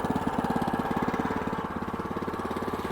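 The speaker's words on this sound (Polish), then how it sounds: "szczególnie to słychać w dieslu, takie charakterystyczne klekotanie" A cold diesel engine of a WM500 idles alone with a steady, rattling clatter, the rapid regular knocking running close by at a constant pace.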